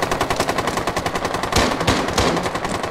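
Rapid automatic gunfire from a video game firefight in a secure-area mission, a fast, loud, regular volley of shots running throughout with a couple of heavier bursts midway and no talk over it.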